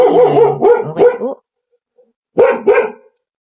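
A dog barks in two bursts, several close loud barks, then a pause and two more barks, with no talking over them.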